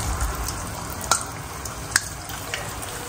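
Pressed falafel balls frying in a shallow layer of oil, giving a faint, steady sizzle with a few sharp pops and crackles standing out.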